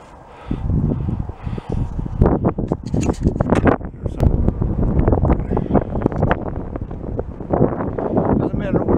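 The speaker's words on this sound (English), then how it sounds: "I don't know if you can hear me or not over the wind." Gusty wind at an Atlantic salt marsh on a sunny day buffets the microphone with loud, continuous rumbling bursts, and a person talks throughout over the blustery roar.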